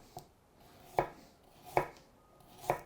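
A very sharp knife slices a carrot into rounds on a board, four crisp separate chops spaced under a second apart, close and clear against a quiet room.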